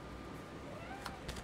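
A pet cat gives a couple of short, fairly faint meows near the end, heard over a steady background hum in a quiet indoor room.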